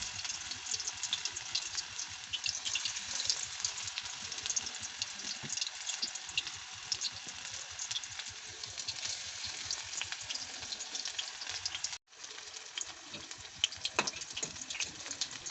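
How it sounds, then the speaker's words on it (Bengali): Coriander leaf fritters pressed flat frying in hot oil in a wok: a dense, continuous crackling sizzle, close and fairly loud throughout, with a brief dropout near the end and no talking. "এবার আমি ধনে পাতার বড়াগুলো ও চ্যাপটা চ্যাপটা আকারে ভেজে নেবো"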